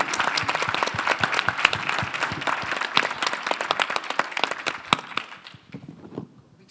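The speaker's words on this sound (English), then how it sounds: "So I think you guys deserve a fantastic, your whole team, round of applause for this summit." Dense round of audience applause for the organizing team at the close of a summit panel, many hands clapping loudly for several seconds before thinning out and fading at the end.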